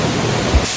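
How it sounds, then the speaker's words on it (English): The Erin-Ijesha waterfalls pour down in a steady, close, full-bodied roar of rushing water, with no voices over it. "can you hear the waterfalls though? It's so loud, guys."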